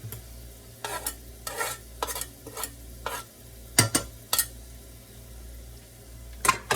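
Diced celery, yellow onion and jalapeno sauté in a pan with a low sizzle, punctuated by a series of brisk stirring and scraping bursts and a couple of sharp metallic utensil knocks.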